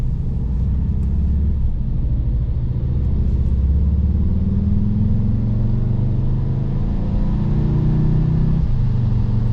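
A VW Jetta GLI MK6 engine runs steadily, a loud continuous low rumble with a slight rise in pitch partway through, with no talking.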